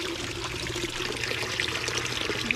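Water is poured steadily to give a carabao named Magayon a drink, a continuous splashing trickle heard close by, with no talk over it.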